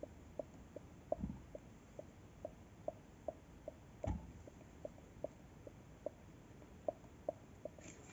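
Faint, steady rattling tick from the crankshaft pulley of a Renault 1.5 dCi K9K diesel engine, with evenly spaced light knocks repeating about twice a second over quiet engine noise.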